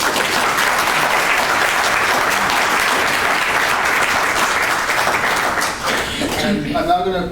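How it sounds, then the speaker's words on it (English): An audience at a university inaugural lecture applauds loudly in a sustained, dense roll of clapping that tapers near the end as a voice begins speaking. "Let's give them another round of applause."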